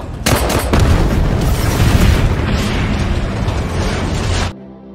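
A bomb bag thrown in an action film explodes in a loud, sustained blast that fills the clip with a roaring rumble for about four seconds before cutting off abruptly.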